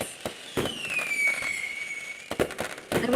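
Fireworks pop and crackle, with a long whistling rocket gliding downward in pitch while several sharp bangs burst around it at moderate distance.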